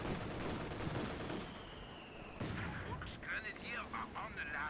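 Anti-tank gun fire and other gunfire from a 4v4 Company of Heroes 2 match on the Road to Arnhem map, a dense continuous rumble of battle with booming shots, heard under a commentator's voice.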